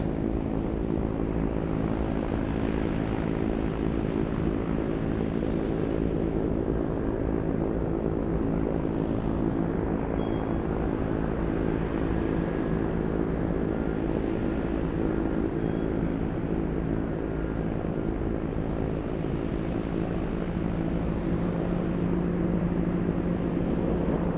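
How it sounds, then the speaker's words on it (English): Heavy aircraft engine roar from a Boeing Dreamlifter cargo freighter at Anchorage airport, a steady loud broadband rumble sustained throughout as it takes off and passes overhead, with no talk. "I'll show you the Dreamlifter. I'll show you where it parked after this takeoff."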